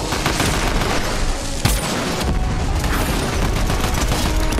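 Dense, continuous gunfire in Fortnite, with overlapping rapid shots and bursts filling the scene at steady loudness and no talking.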